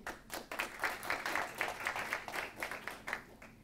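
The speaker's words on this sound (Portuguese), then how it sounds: "Por palmas, sempre por palmas." Stand-up comedy audience clapping to answer a question about dating age; moderate, fairly faint crowd applause with a loose pulsing rhythm that continues for several seconds.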